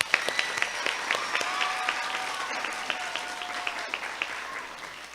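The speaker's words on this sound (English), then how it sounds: "A round of applause." Applause from an audience at a school renaming ceremony held by the Maplewood Board of Education, a steady mid-level patter of many hands with a few sharper, nearer claps standing out, carrying on without a break.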